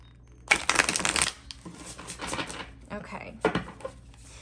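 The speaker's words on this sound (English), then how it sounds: "Give it one more good shuffle before we get into it." Tarot cards being shuffled by hand, a burst of crisp riffling and flapping followed by softer shuffling and a second short riffle, fairly close.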